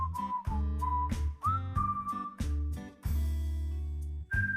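Short blasts of a whistle repeat several times, some held longer than others, each sounding alone and close, with steady low background tones running underneath.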